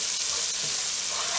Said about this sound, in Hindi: ये पाव भाजी मसाला, और इसको मिक्स कर देते हैं